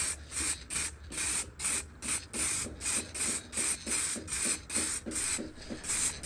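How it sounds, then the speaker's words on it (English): Clear coat is sprayed onto a carbon fibre part in short, regular hissing bursts, about a dozen evenly spaced passes close to the nozzle. "here I'm just spraying some clear coat"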